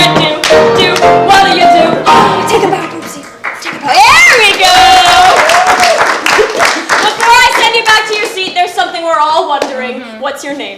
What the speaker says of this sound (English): A huge round of applause to Chris for being a great man and a great sport